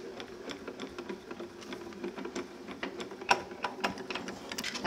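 Sheets of paper fed through a manual die-cutting and embossing machine, a steady mechanical grinding with ratchet-like clicks and a few sharper snaps, fairly close and alone.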